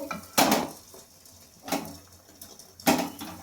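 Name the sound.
turning egg over in kadai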